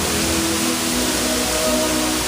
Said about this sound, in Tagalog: Ayan, napakaganda ng falls. Man-made falls.